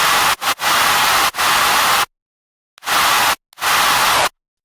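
Loud bursts of harsh white noise, cut on and off abruptly with sharp gaps of silence between them.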